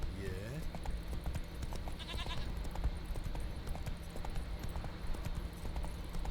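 Horse hooves pound in a steady clip-clop gallop while riding in the Witcher 3 video game, running continuously at moderate level over game ambience and occasional voice.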